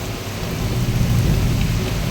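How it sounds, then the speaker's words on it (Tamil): Heavy rain pouring in the Ambattur area of Chennai, a dense steady roar with a low rumble of thunder swelling through the middle, loud and close. "சென்னையில் அம்பத்தூர் பகுதியில் சரியான மழை"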